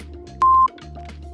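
A single loud electronic timer beep, a steady tone lasting about a quarter second, sounds over quiet background during a back recovery and core strength workout.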